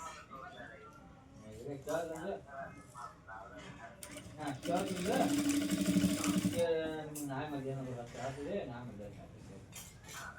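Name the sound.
sewing machine stitching lehenga blouse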